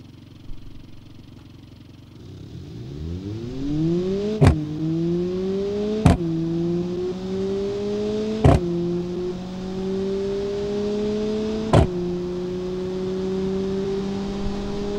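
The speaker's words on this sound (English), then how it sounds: "keep the main combustion engine also on." Hybrid car's combustion engine accelerating in the Automation car-building game, a rising tonal engine whine climbing through four gear shifts, each marked by a sharp click, starting from near silence.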